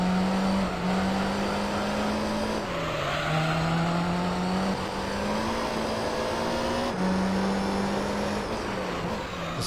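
A race car engine in Gran Turismo 3, driving the Monaco street circuit, drones steadily with gear shifts and rises and falls in pitch, under a continuous whoosh of speed.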